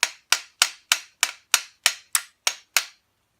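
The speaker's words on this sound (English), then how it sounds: "you can take a small hammer and you can hit this pin." A small hammer strikes the pin of a belt tensioner on a Volkswagen Jetta 1.9L TDI turbo diesel, giving ten sharp metallic taps in a steady, evenly spaced rhythm, close and clear with no talking.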